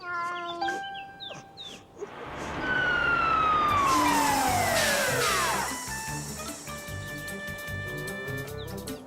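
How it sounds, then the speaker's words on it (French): A cartoon fire truck siren wails loudly as the big red engine arrives, the pitch sweeping down in a long glide over road noise, with music-like tones before and after. "Caillou était tout excité de voir les pompiers arriver dans leur grand camion rouge."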